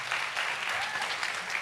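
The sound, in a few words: audience clapping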